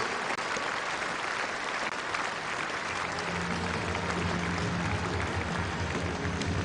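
Crowd at the Ageas Bowl applauding during a women's Kia Super League cricket match, continuous distant clapping filling the whole stretch, with a commentator's voice coming in softly near the end.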